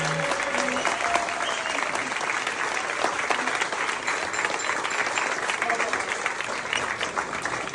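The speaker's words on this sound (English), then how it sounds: "there was a big round of applause from everyone" An audience at the Turner Gallery opening applauds in a steady, dense round of clapping that holds at an even level from start to finish.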